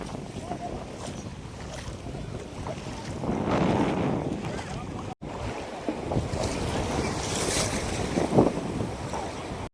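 Sea surf washes steadily at Koliyak beach near the Nishkalank Mahadev temple in Gujarat, with rolling waves and gusty wind buffeting the microphone, continuous and fairly close, with no clear talk.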